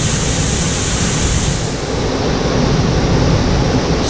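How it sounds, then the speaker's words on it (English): A powerful waterfall in the Columbia River Gorge roars as a loud, steady, broadband rush of falling water, close and unbroken, with no voices over it. "This waterfall is angry."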